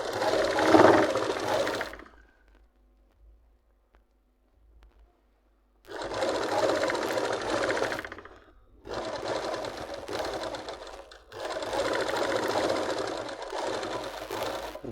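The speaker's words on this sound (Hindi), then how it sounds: "जहाँ सिलाई ख़त्म होती है वहाँ हमेशा जो है सिलाई को पक्का करना होता है, आगे पीछे को" A sewing machine runs back and forth stitching palazzo pants fabric to lock the seam end, in several close, loud bursts of steady whirring separated by short pauses.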